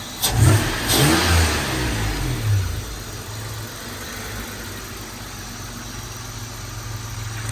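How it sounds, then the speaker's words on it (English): A Dodge Stealth R/T fitted with an HPS cold air intake revs hard up close in a couple of throttle blips, then drops back to a steady, rumbling idle with no voices. "rev it some more."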